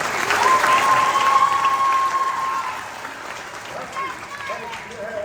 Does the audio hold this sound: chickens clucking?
no